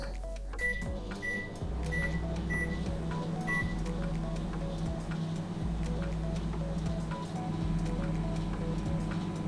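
A microwave oven runs steadily while heating an egg, its constant low hum and whirr filling the clip, with a few faint ticks and beeps scattered over the drone and no speech.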